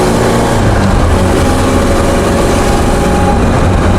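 Volvo PV544 historic rally car engine running steadily and loud, a constant close drone with no break or talk.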